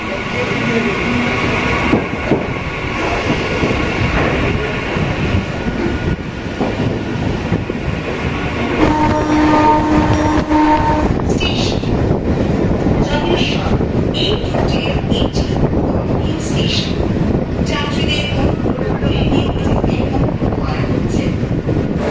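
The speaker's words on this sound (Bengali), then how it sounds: "খড়গপুর থেকে আমাদের জলেশ্বর মেমু স্পেশাল ছেড়ে দিল" A Jaleswar MEMU special local train runs out of Kharagpur, recorded from inside with a steady loud rumble of wheels on rails, rhythmic clatter, wind buffeting and a brief tonal squeal, with voices talking over it.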